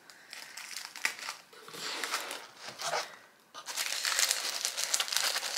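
Tissue paper crinkling and rustling as a Celine luxury bag is unwrapped, steady close handling noise that swells louder and denser in the second half, with no talking.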